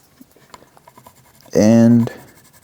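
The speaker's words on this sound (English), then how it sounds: "So you just want to draw it in. I just freehand it in. Just sort of sketch this." A pencil sketches the outline of a gourd banjo neck freehand, making light intermittent scratching strokes up close before a voice breaks in briefly.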